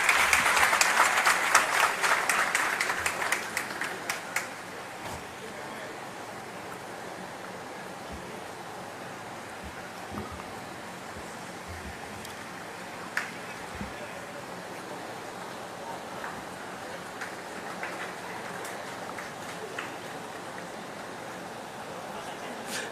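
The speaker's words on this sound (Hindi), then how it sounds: "सबके लिए तालियां बजा दीजिए आप यहां से।" Audience at a government event in Chhattisgarh claps, loudest at the start then fading within a few seconds into a long low wash of distant crowd noise with scattered claps.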